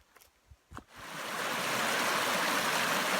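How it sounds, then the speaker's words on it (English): Water of Justice Creek on the Appalachian Trail rushes in a steady broadband hiss that swells in after a few footsteps and stays constant and fairly close. "You can hear water. I'm guessing it's Justice Creek"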